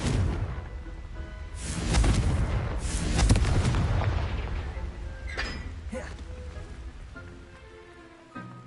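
Fire spell explosions and blasts in the Hogwarts Legacy video game, several loud booming bursts around the second and third seconds that fade into crackling debris and echoing rumble, with game effects continuing after.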